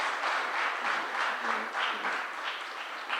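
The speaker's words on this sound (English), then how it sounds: "Loud round of applause for that, please." At a real estate industry panel, an audience gives a steady round of applause, a continuous crowd of claps at moderate level with slight swells and no talking over it.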